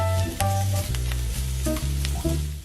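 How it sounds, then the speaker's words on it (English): Onions and garlic sizzle in a pan as they sauté until golden brown, a bright hiss carrying steady tones, with a few sharper crackles through the short stretch. "I sautéed the onions and garlics until they were golden brown."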